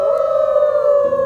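A person imitates a wolf howl beside a campfire in Yosemite, holding one steady, sustained howling tone, loud and close, for just over a second.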